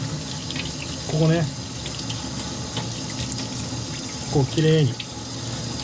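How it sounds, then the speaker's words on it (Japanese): Tap water runs steadily into a sink while horse mackerel is rinsed and scrubbed with a toothbrush, and a person talks briefly over the flow. "水洗いの仕方というかね、この歯ブラシを使って私の場合やりますよ"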